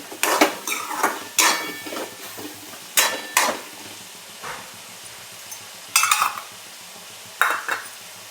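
Masala sautéing in oil in a pan for a potato and pea curry: short bursts of spoon scraping and clanking against the pan, about eight strokes in irregular groups over a faint low sizzle.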